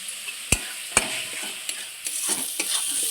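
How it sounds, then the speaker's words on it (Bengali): Dried lote fish frying with spices in a pan: a steady close sizzle with a few sharp clacks of a stirring spoon against the pan and scraping as it is moved around. "আমি শুটকি মাছটা দিয়ে দিচ্ছি আবার মশলার সঙ্গে খুব সুন্দর করে কষিয়ে নেব"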